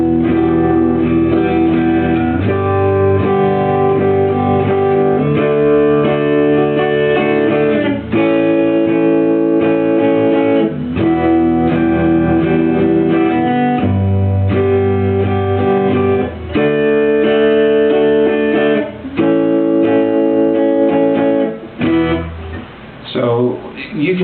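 Guitar chords strummed with a constant down-up motion, changing every few seconds in a steady loud rhythm, with short gaps between chord changes and a brief pause near the end.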